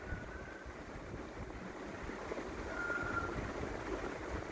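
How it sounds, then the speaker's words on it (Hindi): Onions frying in oil with chana dal give off a steady, dense sizzling hiss that swells slightly toward the end, with no voices over it. "उसके बाद इसमें प्याज ऐड कर दें और प्याज को अच्छी तरह फ्राई करेंगे।"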